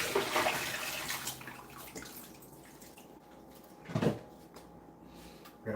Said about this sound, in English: We're gonna dump the water out of here.